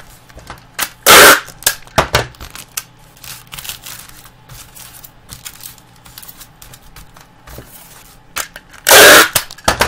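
Two loud, brief rips of adhesive tape being pulled off a roll, separated by quieter rustling and pressing as it secures a hot pack in a tarantula shipping package.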